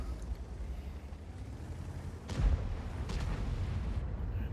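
Tank cannon fire in World of Tanks, a heavy boom around mid-clip followed by a lingering low rumble over continuous battle ambience, with an E100 among the tanks involved.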